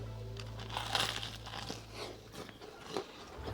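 Crisp crunching bites into Korean fried chicken, several crackly crunches close to the mic at an uneven pace, with a low hum underneath.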